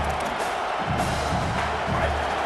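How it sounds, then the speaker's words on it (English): A stadium crowd at a college football game in EA College Football 27 roars and cheers steadily, a broad wash of many voices at moderate volume with a low rumble underneath. "Listen to this crowd just shaking the girders of this place, trying to help their defense"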